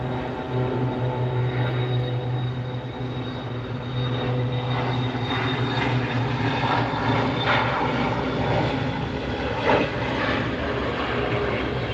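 An airplane passes at an airport, its engines a loud, steady roar that holds throughout with a slight swell as it goes by, close and alone.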